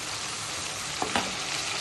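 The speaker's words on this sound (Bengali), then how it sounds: "আমি পেঁয়াজ কাঁচামরিচ ভাজতেছি।" Onion and green chili fry in hot oil with a dense, close sizzling hiss, broken briefly by a couple of soft stirring scrapes.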